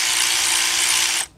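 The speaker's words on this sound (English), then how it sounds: "I'm using my big bill ratchet" Ratchet clicking rapidly and steadily as it turns a bolt on the front brake caliper of a 2007 Nissan Murano 3.5, a big 3/8-drive Earthquake XT, loud and close for about a second before stopping.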